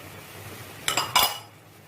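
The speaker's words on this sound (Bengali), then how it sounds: "এবং খুব ভালো করে নেড়ে চেড়ে মিশিয়ে দিচ্ছি" A utensil stirs a carrot, reduced-milk and sugar mixture in a pot for carrot laddu, making two quick, close metallic clinks against the pot over a quiet background.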